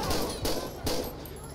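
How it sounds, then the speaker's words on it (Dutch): Gunfire during a shootout with a robber in GTA 5, two harsh, noisy shot bursts in quick succession over a dense, rumbling background. "hij heeft geschoten, schoten gelost binnen"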